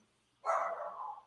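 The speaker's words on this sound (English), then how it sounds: "My dog's going nuts." A dog barks once indoors, close and fairly loud, with the sharp bark trailing into a short strained tail before quiet.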